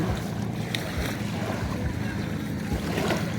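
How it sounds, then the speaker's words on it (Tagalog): Gentle ocean waves wash onto a dark-sand beach in a steady, soft surge, with low wind rumble across the microphone and no clear voices. "Banayad ang alon."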